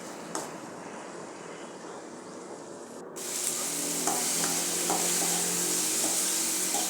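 Tomatoes sautéing in a pan for chickpea curry, a steady sizzle that grows louder partway through, with a few light scrapes of stirring.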